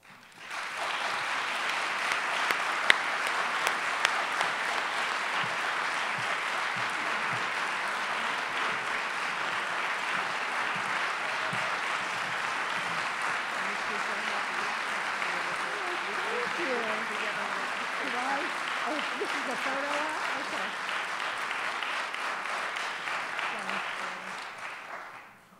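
Sustained, dense audience applause at the 2012 Sackler Center First Awards ceremony, welcoming awardee Linda Nochlin. It holds steady at an even level for about twenty-five seconds, with faint voices mixed in toward the end.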